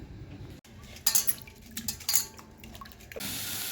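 Raw chicken is washed in water, with splashing, dripping and brief clinks of a metal pot or dish, close by and fairly quiet.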